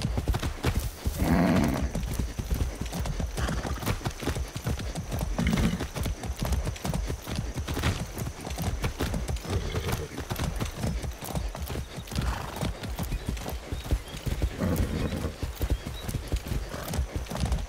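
Horse hooves clip-clop in a steady, continuous rhythm while riding in the video game Far Cry 6, with an occasional neigh over a constant, even ground noise.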